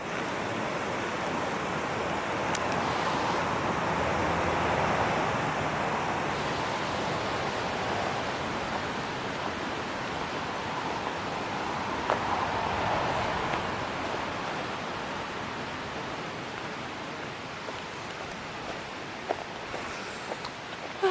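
A big stream on the Pacific Crest Trail rushes in a broad, continuous roar with slow swells in loudness, steady and close, with no voices.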